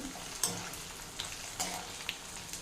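Spices crackling in hot oil in a tempering for homemade tomato pickle, a steady faint sizzle with a few sharper pops and spits, close by, with no talk.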